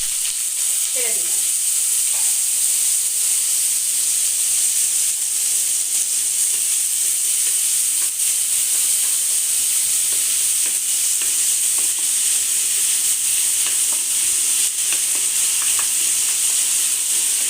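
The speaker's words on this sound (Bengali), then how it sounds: "আমার কড়াই গরম হয়ে গেছে, আমি এখন পেঁয়াজগুলোকে তেলের মধ্যে" Onions fry in hot oil in a heated wok, a loud, continuous sizzle with brief stirring scrapes near the start and steady crackling throughout.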